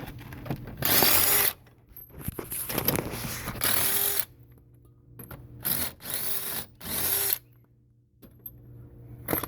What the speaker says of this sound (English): now I'm using my electric impact wrench